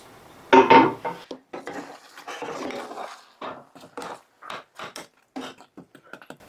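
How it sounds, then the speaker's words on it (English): A skillet holding grease is shifted across a home stovetop, giving one loud metallic scrape and clatter of pan against the burner grate, followed by softer scattered clinks and rubbing sounds. "I'm going to move this skillet with the grease out of my way."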